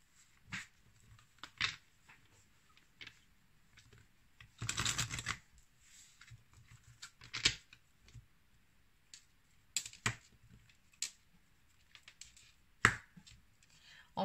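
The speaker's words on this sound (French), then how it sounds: "Allez, on va maintenant prendre quelques cartes de l'oracle lumière." Oracle cards from a light-themed deck being shuffled during a reading, with one brief dense riffle burst among scattered soft clicks and card taps, close and quiet, no voices.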